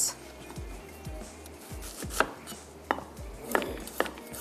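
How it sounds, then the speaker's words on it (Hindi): Knife slicing through onions on a cutting board for biryani, a steady series of close, crisp chops repeating roughly every half second, loud and alone without any talk. "जब भी आपको प्याज सुर्ख करनी है आप उसको इस तरीके से स्लाइस करेंगे"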